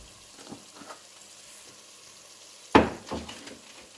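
Onions fry with salt in an oiled pan, giving a low quiet sizzle, then a sharp louder burst of crackling and stirring near the end, heard close with no voices.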